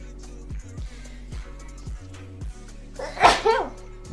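A single sharp sneeze bursts out near the end, loud and close, after quiet low sounds.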